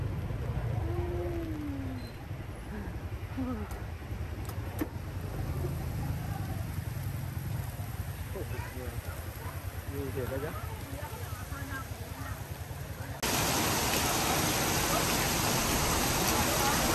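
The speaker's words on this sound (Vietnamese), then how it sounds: "Trời đang mưa rất là to luôn mọi người ơi, đang đi đường đổ mưa rất to luôn." Heavy tropical-depression rain pours down at night on a Nha Trang street, a dense steady roar throughout that grows louder and brighter near the end, with a voice speaking faintly beneath it.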